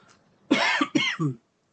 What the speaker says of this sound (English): sorry about the coughing, you guys.